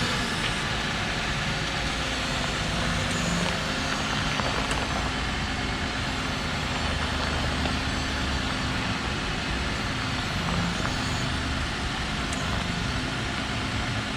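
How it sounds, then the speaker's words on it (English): A Jeep JL truck idles after a steering tie rod and stabilizer upgrade. Its engine gives a steady, low rumbling drone for the whole stretch, without clear pauses or revving. "now we're just gonna start the truck up"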